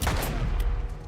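Rapid gunfire in The Last of Us Part I, a dense burst of loud, overlapping shots filling the whole second with sharp cracks over a low rumbling bed, with no voices.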